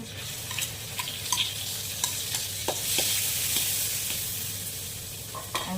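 Small dried anchovies (ikan bilis) sizzle in a pan with garlic and onion, a steady bright crackle of frying broken by occasional stirring scrapes and clinks, fairly quiet and close, with no talking.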